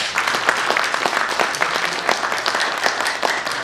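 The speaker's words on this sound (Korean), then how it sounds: "진짜 마음의 박수 한번 정인승 작가에게 보내드리십시다." Audience at a Korean book launch claps for the author, a dense steady applause of many hands close by, with no talking over it.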